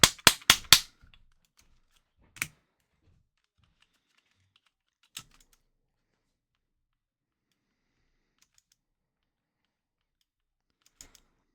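A Nintendo DSi LL game card is pushed in and ejected, giving a quick burst of sharp plastic clicks at the start followed by a few isolated faint clicks spread across near silence.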